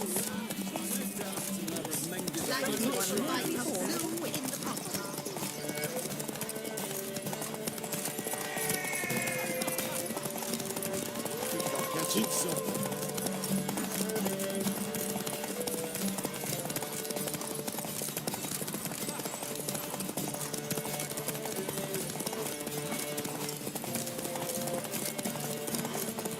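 Hooves of Roach, Geralt's horse in The Witcher, clip-clop steadily through a derby race, joined by occasional whinnies and under a continuous bed of music and crowd noise.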